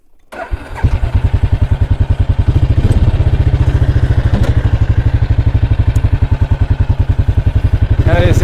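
A quad bike engine fires up and settles into a steady, loud, close-up putter with a rapid regular pulse throughout.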